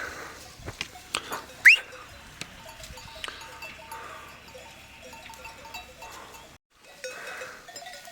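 A flock of sheep moves along a mountain tractor road, with clanking bells, scattered bleats and a sharp whistle at varying distances over quiet outdoor ambience.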